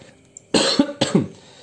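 Two close, harsh coughs in quick succession, loud and isolated with no talking.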